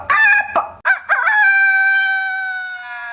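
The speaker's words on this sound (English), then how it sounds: "I'm going with chicken sounds because, why not?" An animated chicken, AI-generated, crows loudly and close up, with a few choppy clucks first and then one long drawn-out cock-a-doodle-doo that fades slowly.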